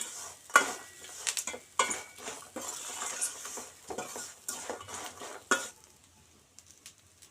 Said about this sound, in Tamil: முந்திரி போட்டுப்போம் பாதாமும் போட்டுப்போம் நல்லா கிளறி விட்டுப்போம்